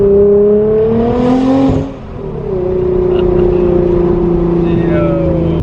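Nissan GT-R R35 fitted with an Fi aftermarket exhaust, revving loud and close: a rising engine note climbs, drops off briefly, then settles into a steady sustained drone.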